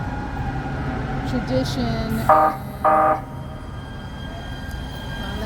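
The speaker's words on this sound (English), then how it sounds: "Let this train go by." A train goes by in the background, a steady low rumble with two short horn-like toots midway, while a person talks over it.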